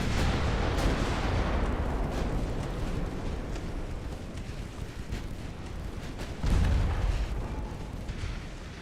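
Warship guns fire in the naval video game Ultimate Admiral Dreadnoughts, a continuous rumbling battle din of booming blasts with a heavier thud partway through, loud and dense without speech.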